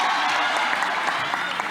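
An audience applauds at a neighbourhood festival event in Kourou, with dense, even clapping throughout the short burst.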